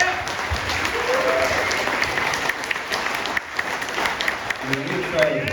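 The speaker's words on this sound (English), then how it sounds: "I just want to give you a round of applause real quick" Applause from the audience at a homeless coalition meeting, steady broadband clapping that holds for several seconds at moderate loudness before thinning toward the end.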